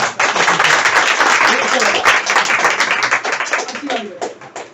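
Audience clapping at a talk in a herbal store, loud close-up claps in a dense burst that holds for several seconds before thinning out and fading.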